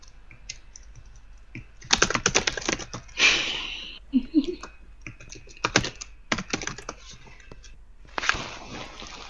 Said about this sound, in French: c'est quand on entend le clavier du PC